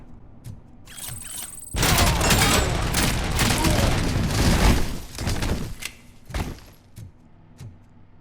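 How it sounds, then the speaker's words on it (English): Explosions and heavy gunfire in the RoboCop: Rogue City video game, a dense roaring barrage of blasts lasting several seconds, then a few scattered bursts and thuds trailing off. "Is that just explosions or was that something else?"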